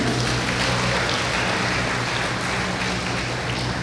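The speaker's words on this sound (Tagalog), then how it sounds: "Lahat ng nakikinig, pwede man pumalakpak ng malakas sa Panginoon." A church congregation claps loudly for the Lord, filling the room with a dense, continuous wash of applause that holds at full level throughout, with no voices standing out.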